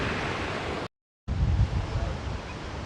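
A waterfall cascades into a further pool beside a hotel swimming pool at the Viva Blue & Spa Hotel in Majorca, giving a steady broadband rush of falling water that briefly cuts out before resuming.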